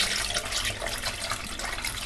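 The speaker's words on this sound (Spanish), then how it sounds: "lo primero que tenemos que hacer es rellenar de agua" Tap water running steadily into the salt reservoir of a dishwasher during installation, a continuous close splashing flow with no speech.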